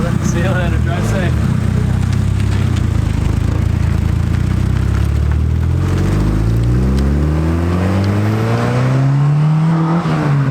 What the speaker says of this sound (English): I am stoked that the car drove away with no issues